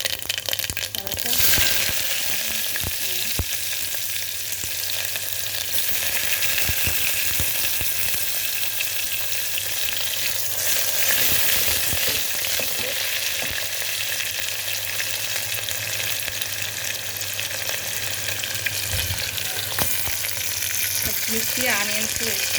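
Green chillies and onions fry in oil with tempering spices for moong dal khichdi, producing a loud, dense, continuous sizzle up close, broken by occasional spatula scrapes and clicks, with no talking.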